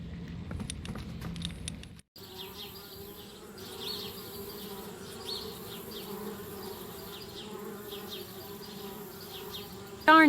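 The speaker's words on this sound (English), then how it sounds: "Darn bees, trying to move into our treehouse." Bees buzz around a treehouse in the adventure game Anna's Quest, a steady droning swarm with individual buzzes flitting past, continuous over a quiet ambient background after a brief earlier sound.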